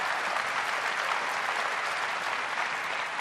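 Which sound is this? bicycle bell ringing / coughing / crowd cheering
crowd cheering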